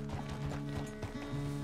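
A horse's hooves clip-clop at a steady walking pace while it is ridden in Red Dead Redemption II, moderately close, under a low musical hum and faint ambience.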